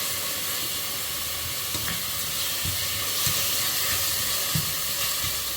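Soaked chana dal fries in a hot pan with a continuous close hiss and sizzle, broken by several soft knocks and scrapes as it is stirred.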